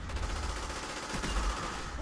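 Gunfire in the Call of Duty video game, dense continuous bursts of rapid shots through game audio, moderately loud and steady for the whole stretch.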